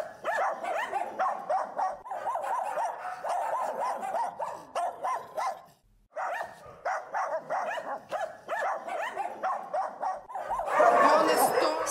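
Dogs bark and yip at an animal shelter in Ukraine, short repeated calls running nearly throughout at moderate loudness, with a brief pause midway and a louder burst near the end.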